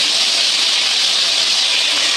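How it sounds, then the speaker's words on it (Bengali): Fish frying in a pan in a home kitchen, a loud steady sizzle of hot oil that holds evenly throughout with no talk over it. "মাছগুলো ভাজা হচ্ছে"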